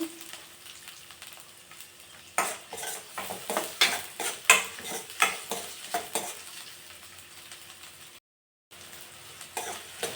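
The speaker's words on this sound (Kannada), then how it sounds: "ಸೊ ಇದು ಇವಾಗ ಎಣ್ಣೆಯಲ್ಲಿ ನೀಟಾಗಿ ಫ್ರೈ ಆಗಬೇಕು" Sliced onions fry in hot oil while a spoon stirs them, part of making South Indian curd rice. Steady sizzling runs throughout, with repeated scraping strokes against the pan. A brief gap comes near the end and no one talks.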